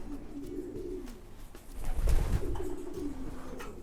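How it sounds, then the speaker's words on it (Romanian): Pigeons coo in a breeding loft, soft repeated low throaty calls from several birds, fairly close and quiet, with faint rustling and no talk. "aici în spatele meu vedeți deja porumbeii noștri care sunt separați"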